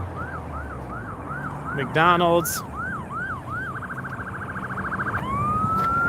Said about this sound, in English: I got an ambulance coming by.